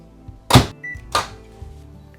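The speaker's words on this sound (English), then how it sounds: "I'm just gonna put this in the microwave." A microwave oven melting butter and chocolate for a flourless chocolate cake: two solid thunks from the door, with a short electronic beep between them, in a quiet kitchen.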